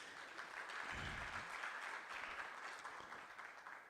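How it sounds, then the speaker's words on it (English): Faint, distant applause from the audience at a manufacturing convention for a panel, a steady wash of clapping that continues throughout with a low thump partway through. "So please, let's clap again for our panelists."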